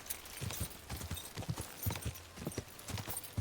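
A horse galloping in the game Kingdom Come Deliverance 2, its hooves pounding in a quick even rhythm, near and moderately loud, with no voices.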